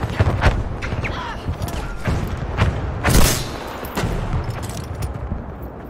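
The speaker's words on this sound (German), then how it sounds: "hab eine Granate für Sie." A grenade blast in the video game Battlefield V lands as a heavy boom around the middle, among scattered thuds and distant gunfire in a busy battle mix.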